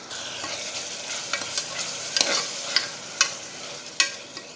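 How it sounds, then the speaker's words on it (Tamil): Tomatoes sautéing in a pan for plain biryani, soft steady sizzling broken by scraping strokes of a spoon and a few sharp clinks against the pan, close and unaccompanied by talk. "தக்காளி சேர்த்து நல்லா நல்லா டீப்பாக வதக்கிக்கோங்க."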